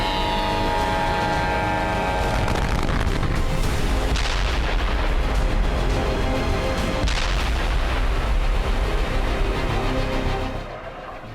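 Missile attack explosions in Yemen: a dense, continuous roar of booming blasts and rumbling fire with sharper bursts near 4 and 7 seconds, loud throughout before easing at the end, with no voices.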